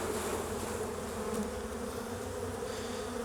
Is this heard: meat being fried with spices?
no